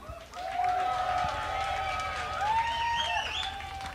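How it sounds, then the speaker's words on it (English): Concert audience applauding and cheering after a set, a dense wash of clapping and crowd noise with sustained tones and whistles over it, steady and loud for the whole stretch. "Let's have a round of applause"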